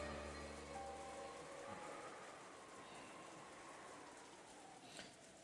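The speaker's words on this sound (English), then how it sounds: "you couldn't ignore the sound of the rain sneaking into the dining hall" Soft, steady rain in a video game patters continuously under a faint low hum, quiet and even, with one small louder drip near the end.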